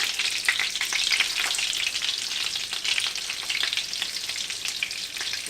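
Breaded Wiener schnitzel cutlets fry in a pan of hot oil, giving a loud, steady bright sizzle with crackling bursts and no talking.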